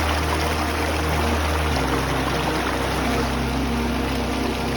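Mountain stream water rushing steadily along a hillside pass, a broad continuous roar that fills the whole clip, close and loud with no talk over it.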